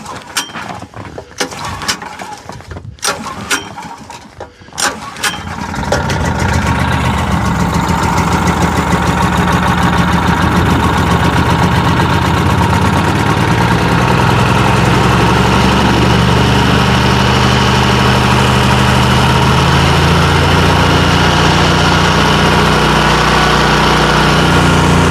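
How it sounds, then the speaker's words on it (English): A generator engine pulls through a few choked starting attempts, then catches and settles into a loud, steady idle that runs without a break for the rest of the stretch. "So the power is taken care of with the generator."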